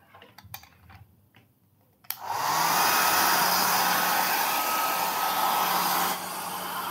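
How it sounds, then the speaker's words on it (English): A hair dryer switched on as a 44-amp electrical load on a battery setup roars up abruptly after a quiet start with light ticking, then holds a loud, steady blowing hiss with a faint hum before easing slightly near the end. "let's apply a 44 amp load using this hairdryer"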